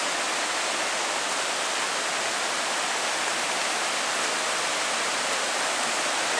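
Mingo Falls near Cherokee, North Carolina, with its creek, produces a steady, dense rushing roar of falling water that continues unbroken and even throughout, with no voices over it.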